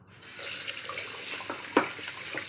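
Running tap water pours steadily over pork bones and a pear being washed in a sink, a continuous close hiss with a few splashes and knocks.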